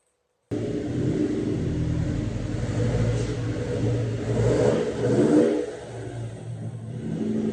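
A 2002 Subaru WRX engine starts and rumbles steadily as the car pulls slowly into a garage, with a mild rise in revs partway through and a close, moderately loud idle throughout.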